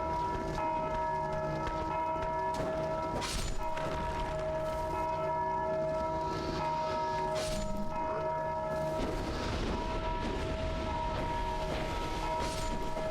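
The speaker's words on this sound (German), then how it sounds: "Hört doch mal auf, die Glocke zu bimmeln." A bell rung in the Dark Souls 2 video game, with sustained metallic ringing tones layered over a dense, rumbling ambient game soundscape, fairly steady throughout.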